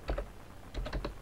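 Keys tapped on a computer keyboard while a command is typed on a Linux system, two quick bursts of clicky keystrokes close by, with no talking.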